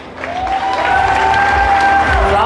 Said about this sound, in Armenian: Եկեք ես սիրուն եղբայրական սիրո համար ծափեր տանք